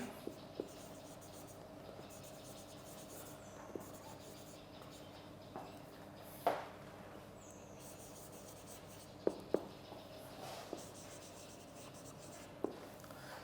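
Writing on a classroom board, faint squeaky strokes and a few sharp taps spread irregularly over a quiet background with a low steady hum.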